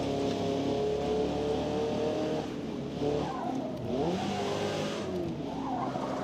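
Race car engine revving and accelerating hard in Forza Motorsport multiplayer, a steady loud roar with shifting pitch as gears change, continuous throughout with no talk.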